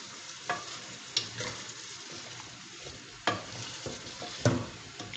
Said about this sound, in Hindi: यहाँ पे इसको हम 3 से 4 मिनट फर्दर भूनेंगे इस मसाले के अंदर